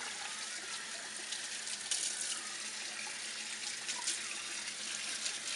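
Tap water runs steadily into a sink or tub for a Pomeranian puppy's first bath, a continuous close splashing hiss with no talking.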